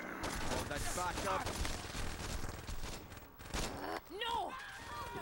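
Rapid sawed-off shotgun blasts in the Saints Row video game, a dense, loud barrage of overlapping gunfire through most of the stretch, thinning briefly near the end as voices and other game sounds cut in.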